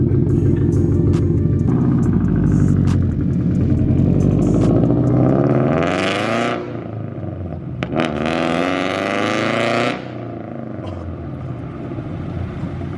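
A stanced Scion FR-S fitted with a Tomei exhaust pulls away through a neighborhood, its engine droning loudly and rising in pitch through revs before settling and easing off into the distance.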